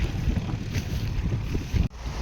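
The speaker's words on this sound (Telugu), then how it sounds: "ఈ బోటు మీద అయితే వెళ్ళబోతున్నాం చూడండి" A river sand boat's diesel engine rumbles steadily with wind noise and water wash, close and loud, cutting off abruptly near the end.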